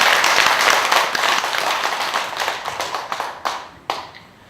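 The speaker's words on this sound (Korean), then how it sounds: "박수 한번 주십시오" Applause from listeners at a Buddhist monk's Lotus Sutra lecture swells briefly, then thins out into a few scattered final claps before falling quiet.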